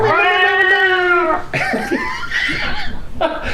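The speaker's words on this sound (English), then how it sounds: "Your voice and that cat meow combined to make a nice harmony" A long, drawn-out cat meow with a rising-then-falling wail, followed by laughter and chatter from people nearby.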